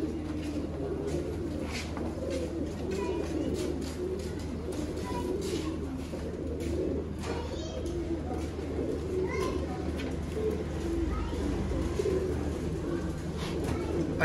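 Caged pigeons of fancy breeds, including Firozpuri and Sialkoti types, coo steadily at close range in a soft, continuous murmuring chorus, with no clear gaps between calls.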